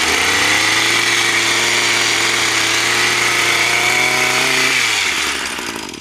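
A motorized pond cattail cutter runs at low RPM, giving a steady close engine drone that winds down near the end.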